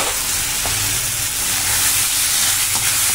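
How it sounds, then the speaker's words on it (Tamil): Mutton sautéing in a pan with onion, tomato and ginger-garlic paste for mutton kuzhambu, a loud, dense, continuous sizzle close up with faint stirring underneath and no voices. "மட்டன் போட்டு நல்லா வதக்கி விடுங்க."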